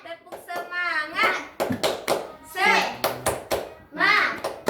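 Schoolchildren chant together in a classroom while clapping the 'tepuk semangat' spirit clap, sharp rhythmic claps in short bursts interleaved with their loud, lively voices.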